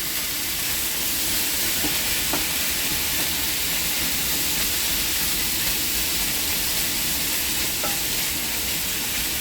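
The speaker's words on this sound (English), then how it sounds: "Cook the peppers a little bit, get it all buttered up, you feel?" Peppers and chicken fry in butter in a pan, a loud continuous sizzle and hiss that stays steady throughout with no talking over it.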